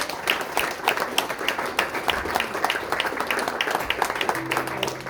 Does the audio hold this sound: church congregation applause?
yes